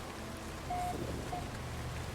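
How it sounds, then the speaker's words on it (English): Painfully hot rain falls on a bountiful planet in No Man's Sky, a faint steady patter and hiss with a low rumble beneath and no talking. "A bountiful planet and I've got painfully hot rain."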